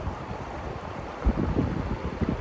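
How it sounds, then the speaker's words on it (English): Rushing river water flows steadily nearby, a broadband wash with low rumbling surges and gusty wind buffeting the microphone, no voices. "the sound of the river probably drowns out the majority of what I just said"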